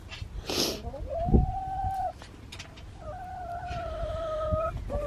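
Backyard chickens cluck and call in a garden, with a few drawn-out tonal squawks rising clearly over outdoor background noise, close to the listener.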